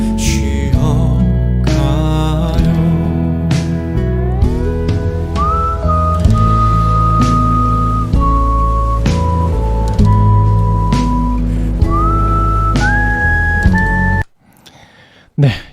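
A man whistles the melody of his own song, a loud, clear, sustained whistled tune over gentle backing music, ending abruptly with a brief quiet moment and a faint sound at the close.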